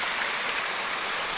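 River water rushing steadily below a dam, a continuous close broadband wash with no breaks and no voices.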